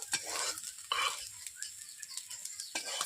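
Fried snails scooped out of a hot wok, with quiet scraping and clinking of a utensil against metal in several short bursts over a faint background sizzle.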